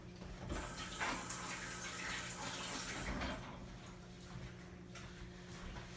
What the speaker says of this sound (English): Gotta rinse my fingers.